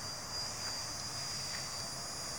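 A Blade Nano CPX collective-pitch RC helicopter hovers nearby, its small rotors spinning with a steady, faint high-pitched whine and airy hum, and no voices.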